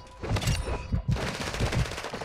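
Video game gunfire during a capture-point match: rapid bursts of automatic weapon fire, loud and close, with several rattling volleys and a brief gap before the firing resumes.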